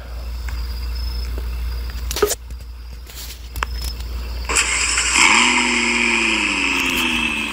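Car engine in a Roblox drag race video game, revving up and holding a steady loud drone with a rising pitch, after a few sharp clicks.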